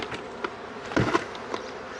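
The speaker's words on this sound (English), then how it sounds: "You'll notice the box has a bunch of bees in there." Honeybees buzz inside a nuc box, a steady close hum with a few louder bursts as they stir, alone without any talk.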